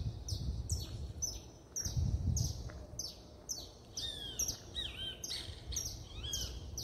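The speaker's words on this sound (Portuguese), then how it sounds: "aqui um canário cantando." A canary sings in a steady stream of bright, repeated chirps and trills, moderately near, with a low background rumble underneath and no talking.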